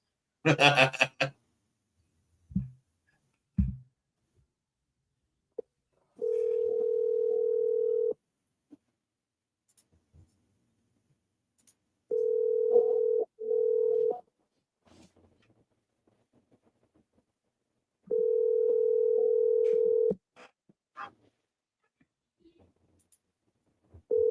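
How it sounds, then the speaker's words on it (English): A phone line rings out as a caller works through a contact list: long steady tones repeat at regular intervals, with short clicks and faint background noise between them, unanswered. "I better call them all before RJ does."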